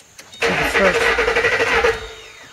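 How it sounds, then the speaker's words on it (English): A Ford Mustang engine, its cylinders wet with penetrating oil after spark plug work, cranks with a brief click and whir, then rumbles loudly for about a second and a half before cutting off, close by. "Go ahead and crank it one time"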